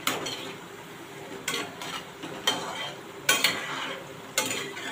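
Moong dal pakoda deep-fry in hot oil over medium heat with a continuous bubbling sizzle, broken by about five sharp scrapes and clinks of a utensil against the pan, close up with no talking.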